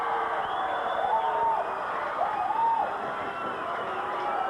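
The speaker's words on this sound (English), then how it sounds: "the crowd loves it" A wrestling crowd at a Portland event cheers and whoops after a winning pin, a steady, distant roar of many voices with occasional rising calls and commentary-like talk mixed in.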